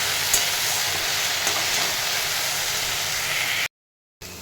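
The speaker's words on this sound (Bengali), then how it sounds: "তো এটাকে এখন খুব ভালো করে ভাজা করি" Greens and potatoes frying in hot oil with dried chillies give a steady, close broadband sizzle with faint stirring that carries on without pause, then drop into brief silence near the end before resuming.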